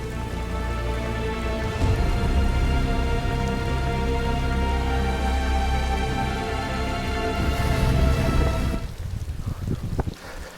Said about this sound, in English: At one point, I accidentally got caught in a heavy rain with the drone.